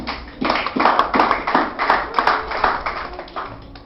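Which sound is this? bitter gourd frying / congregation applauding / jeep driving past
congregation applauding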